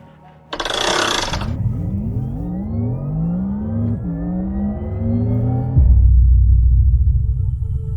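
A 2025 Porsche Taycan 4S electric sedan pulls away, a brief loud burst at the start giving way to a rising electric motor whine that climbs in pitch, dips, then climbs again as the car accelerates, heard close with no talk.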